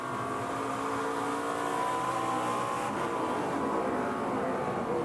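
Chandler Smith's ARCA race car at Lucas Oil Raceway at Indianapolis, heard from onboard as it exits a corner, the engine droning steadily and close with a gentle, even build in revs.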